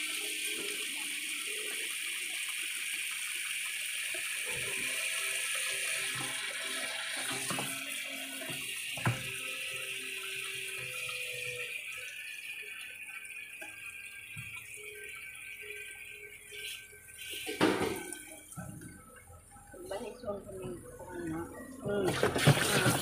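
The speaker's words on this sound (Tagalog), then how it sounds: "padadamihin lang natin ng tubig yan mga kabutingting para makita nyo na wala itong tagas" Water runs steadily into a washing machine under repair in Barangay Kawayan, Libagon, a continuous hiss and gush at moderate level, with people talking nearby and some handling clatter toward the end.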